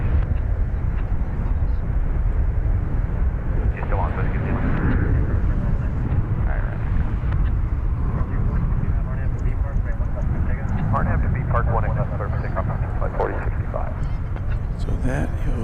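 An Airbus A321neo, flight 4065, at DFW Airport gives a steady low rumble throughout, with people talking over it.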